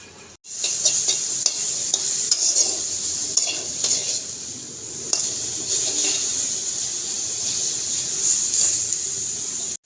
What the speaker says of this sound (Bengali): এখানে মরিচ ভাজতেছি